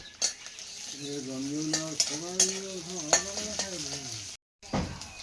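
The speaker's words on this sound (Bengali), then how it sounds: "পেঁয়াজটা ভাজা ভাজা হয়ে গেছে" Onions fry in a pan, a soft sizzle under a voice talking, with sharp clinks and scrapes of a spoon stirring against the metal; a short gap of silence falls near the end.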